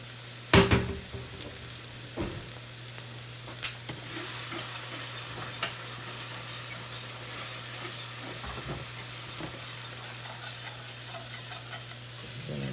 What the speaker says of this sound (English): Then I take my whisk and I whisk it all.